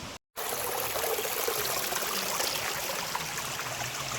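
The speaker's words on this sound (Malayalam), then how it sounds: "അടിമാലി വെള്ളച്ചാട്ടത്തിൻ്റെ ഉറവിടം." Stream at the source of Adimali waterfall, a constant close trickling and rushing of water that runs on steadily after a brief drop at the start, with no voices.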